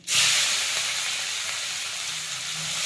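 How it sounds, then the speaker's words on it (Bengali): Chopped onions hit hot oil in a pan for a Bengali-style duck curry, after bay leaf and whole cumin, giving a loud, steady, close broadband sizzle that starts abruptly and holds throughout with no talking. "এখন পেঁয়াজটা দিয়ে দিই।"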